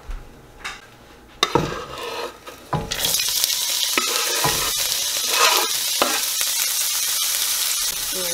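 Vegetables tossed into a very hot pan for chicken fried rice burst into a loud, continuous sizzle after a few quiet clinks and a sharp clatter, with stirring scrapes continuing close by.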